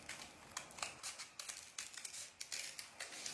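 Scissors snip through fabric being trimmed for a 4-inch embroidery hoop pin cushion, a close, quiet series of short crisp cuts in an irregular rhythm with no talking.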